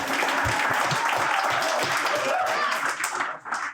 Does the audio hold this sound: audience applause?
yes